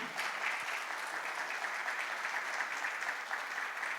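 Steady applause from a crowd, an even wash of clapping hands that holds at a constant level throughout, fairly distant.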